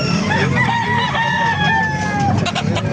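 Several roosters crow over one another amid clucking chickens at a poultry market in Calumpit, Bulacan, a dense, loud chorus of fowl with some background voices.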